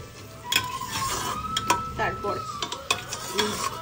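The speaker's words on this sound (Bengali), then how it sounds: "একদম দেখো এখানে মশলাটা এখন কষানো হচ্ছে" Spice paste being sautéed in a pan before meat goes in, with a low sizzle under busy stirring, scraping and sharp clinks of a spoon against the pan, close up.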